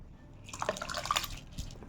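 Washed rice poured slowly into a pot of milk while making payesh, giving soft, close liquid patters and small splashes over about two seconds, with no talking.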